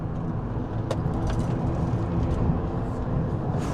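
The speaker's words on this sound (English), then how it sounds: "we're just accelerating through the corners at this point." Acura TL sedan with about 290,000 miles and fresh coilovers, accelerating hard through corners; steady, loud engine and road roar from inside the cabin, continuous with no talk.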